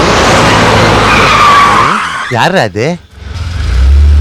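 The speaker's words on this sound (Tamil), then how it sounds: "ஏதோ வண்டி வருதுடா டேய்." Car tires skid loudly in a film scene as a vehicle approaches, a rough broadband screech running for about two seconds before someone briefly speaks, after which the skidding roar swells again.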